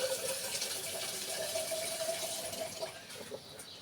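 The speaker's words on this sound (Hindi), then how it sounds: "ये आप देख सकते हैं कि मैं साइड में से इसमें पानी डाल रहा हूँ।" Water is poured in from the side of a pot of aloo kofta curry simmering on low heat, a steady, soft, continuous trickling pour with no voices.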